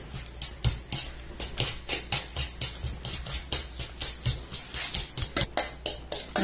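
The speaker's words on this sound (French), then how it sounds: "Donc je mélange cette farce, pardon. Prendre une fourchette," A fork beats stuffing in a bowl with quick, steady clinks against the side, about two or three strokes each second, crisp and close throughout.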